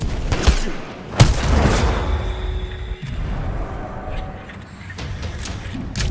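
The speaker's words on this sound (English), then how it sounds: "Throwing frag grenade!" A frag grenade blast and gunfire in the Titanfall 2 campaign level Effect and Cause, heavy booming thuds and bursts of shots close and loud, rumbling on continuously across the scene.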